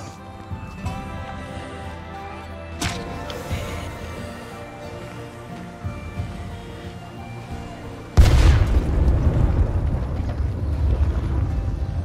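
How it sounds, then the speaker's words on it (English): A State of Decay 2 video game explosion booms loudly, with a sharp blast partway through and a second heavy, sustained rumbling blast that continues to the end over a background of game noise. "That was a loud ass explosion."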